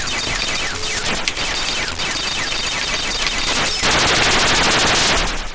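Relentless rapid-fire shooting from the Atari ST video game Anarchy, a continuous loud stream of crackling shots with a harsher burst near the end, no talk.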